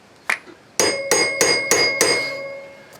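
Hammer blows ring against metal gear parts on a homemade electric ATV build: one sharp tap, then five loud, evenly spaced clanging strikes with bright metallic ringing that decays after each hit.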